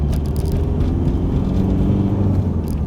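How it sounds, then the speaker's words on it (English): Engine note of a Rover Maestro Clubman with a 2-litre turbo diesel, a steady close rumble with a faint high turbo whistle riding over it while driving. "certainly hear that turbo whistling away"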